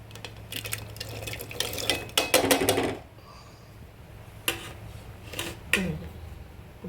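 Water poured into a pot over chopped vegetables for Kongunadu-style sambar, a splashing run of a few seconds followed by scattered drips and clinks of cookware against a quiet kitchen hum.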